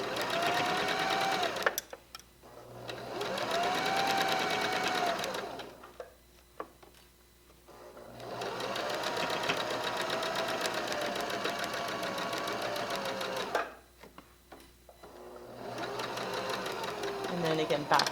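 A sewing machine stitches quilted pillow rows in several long runs of rapid, even mechanical chatter separated by short pauses, close by, with a person talking throughout.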